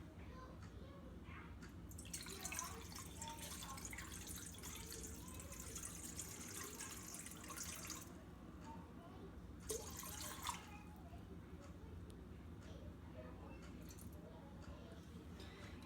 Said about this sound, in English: Okay, so I start with 400 grams of water.